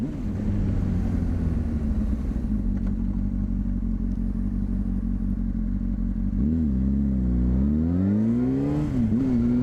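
A motorcycle filters between cars in traffic, its engine a close, steady throbbing drone that then revs up and down in quick rising and falling sweeps toward the end.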